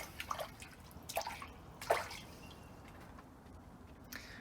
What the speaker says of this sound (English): rinse our hand off.